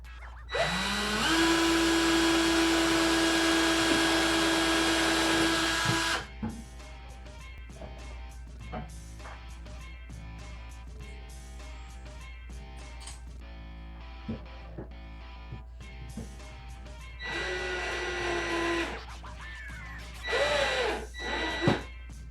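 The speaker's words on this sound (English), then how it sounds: "we're going to make it easy by pre-drilling our holes with a pilot hole here" A power drill bores pilot holes for the screws of IKEA under-cabinet lighting, with a loud steady whine for about five seconds and another short burst near the end, separated by quieter handling clatter.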